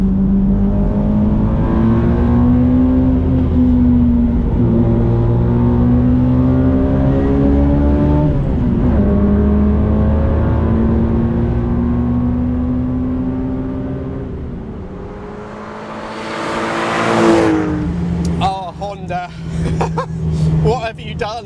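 1968 Honda S800 sports car driving through corners, its small engine humming and revving loudly and steadily with shifting pitch, then easing off and picking up again near the end, with a voice talking over it.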